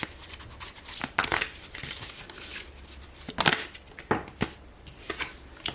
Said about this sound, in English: if I see a lot of cards falling from the deck, I will just put them back